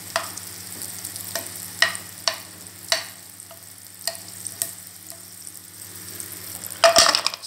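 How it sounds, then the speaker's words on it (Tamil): Butter in a pan for a chocolate and nut mix, with a soft, low sizzle under repeated scraping and stirring taps of a utensil against the pan, ending in a sharp clatter, and no talking. "இப்போ பட்டர் போட்டுக்கோங்க. சால்ட்டு பட்டர் இல்லாமல் பார்த்துக்கோங்க."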